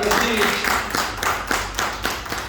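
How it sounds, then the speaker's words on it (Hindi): An audience at a Vestige business presentation in India breaks into loud applause, with rapid overlapping claps over a noisy hall and a voice cutting through. "जोरदार तालियां बजाओ एक बार"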